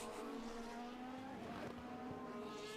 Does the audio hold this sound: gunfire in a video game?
no